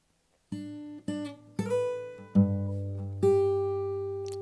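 Close acoustic guitar picked fingerstyle through a short "Yeshua" pattern, five clean plucked attacks building into a sustained ringing chord, quiet and unaccompanied.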